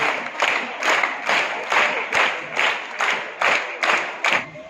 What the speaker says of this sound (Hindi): अतिथि को जोरदार तालियों से स्वागत कीजिए।